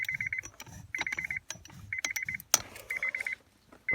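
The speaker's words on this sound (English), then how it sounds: "Sorry about the beeping in the background." Repeated bursts of rapid electronic beeping sound in the background while someone works on a Honda Civic i-Shift, with clanks and mechanical handling noises between the beeps.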